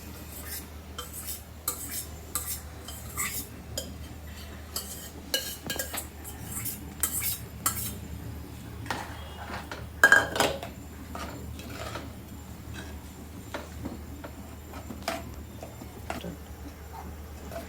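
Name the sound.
adding moth beans to pan and stirring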